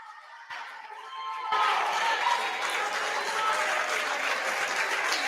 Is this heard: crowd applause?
yes